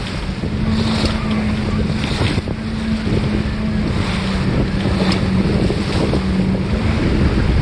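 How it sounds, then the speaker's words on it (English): Strong wind buffets the microphone over choppy water slapping the hull of a 1986 Catalina 22 sailboat with a reefed main on CJ Strike Reservoir, a steady loud roar with a low hum throughout. "Wind's getting a little more"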